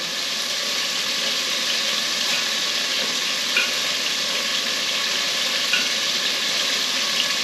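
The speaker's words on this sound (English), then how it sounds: "once both sides are seared" Beef sears in a hot pan for an allergy-free beef stew, giving a loud, continuous close-up sizzle that holds evenly throughout with no talking.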